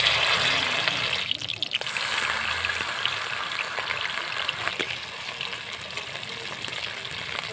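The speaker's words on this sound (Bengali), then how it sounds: "সিদ্ধ কপিগুলোকে একটু ভেজে নেব তেলটা গরম হয়ে গেছে আর দিয়ে দিচ্ছি" Boiled cabbage frying in hot white oil, a loud, steady crackling sizzle with a brief burst of spatter near the start, continuing alone without talk.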